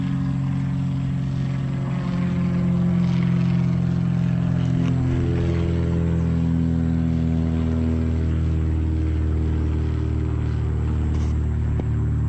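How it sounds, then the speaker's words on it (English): A propeller plane passes over a house-building property in the Philippines, a loud droning engine hum with steady tones that rise then slowly fall as it goes by overhead. "I've been having planes fly over this property all day long today."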